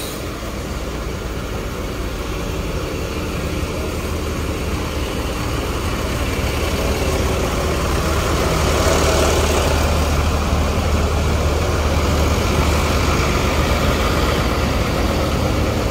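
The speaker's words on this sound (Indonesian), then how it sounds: "Ya ini masuk lagi ya, secara bersamaan lagi PO Berlian Jaya dengan body jet bus 3 sasis Hino, sasis Mercedes-Benz OH1626." A Hino or Mercedes-Benz OH1626 chassis bus with a Jetbus 3 body idles at the Kudus bus terminal at night, a loud, steady low diesel rumble that thickens slightly midway amid broad terminal background noise.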